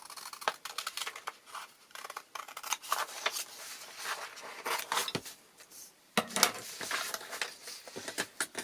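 Scissors cut through paper for a racing paper caterpillar craft, making a string of crisp, close snips and rustles in an irregular rhythm with no talking.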